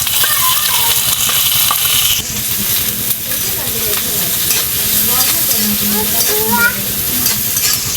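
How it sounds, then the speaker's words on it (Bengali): Onion and chili frying in hot oil, a loud continuous sizzle and hiss with stirring scrapes and clinks throughout, close up, with a voice speaking briefly under it. "এখন আমি তেল দিয়ে দিব পেঁয়াজ মরিচ"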